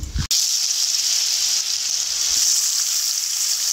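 Chopped mango hits hot oil tempered with dried red chillies and five-spice for Bengali aam dal, setting off a loud, continuous sizzle right after a short clatter at the start.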